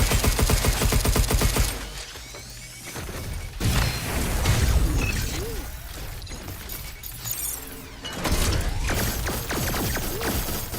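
Video-game gunfire erupts in dense, rapid volleys mixed with shattering and mechanical effects, loud and continuous with brief lulls between bursts.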